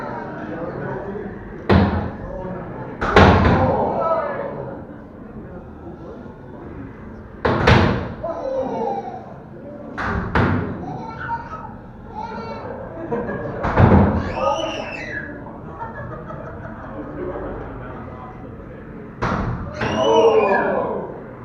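Beetleweight combat robot fight against Killercorn, a four-wheel drive brick, with a spinning robot at an ARC June 2023 event: sharp metallic impacts and thuds strike irregularly, several loud hits spread through, over arena noise and talk.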